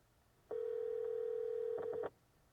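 A steady electronic ringback tone sounds for about a second and a half as a phone call is dialed through an Amazon Echo Auto, clear over quiet background, ending with brief stutters.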